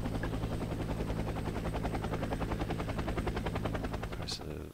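A helicopter moving in the wargame Squad Battles: Soviet-Afghan War, its rotor beating in a fast, even thump throughout, fairly close and steady before fading slightly at the end.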